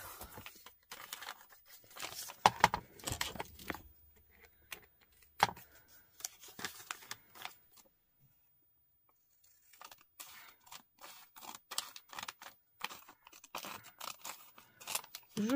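Tape cut and handled while a Christmas card is made, close crinkling, tearing and snipping sounds in irregular bursts, with a quiet pause in the middle before more rustling and cutting.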